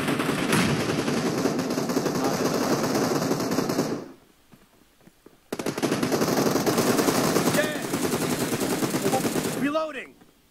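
Rapid automatic gunfire in the mobile battle-royale game PUBG Mobile, loud and dense, rattling for about four seconds, dropping out briefly, then resuming in long sustained bursts before cutting off.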